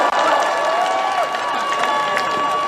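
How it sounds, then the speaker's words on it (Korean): Rally crowd applauding outdoors at a political demonstration, a dense continuous wash of clapping with some cheering, loud and sustained with a faint tonal whistle or horn line running through. "여러분 큰 박수 부탁드리겠습니다."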